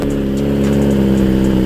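A 2020 BMW S1000RR motorcycle fitted with an SC Project exhaust holds a loud, close, steady throbbing engine note with a strong low rumble.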